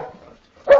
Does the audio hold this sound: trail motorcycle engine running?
no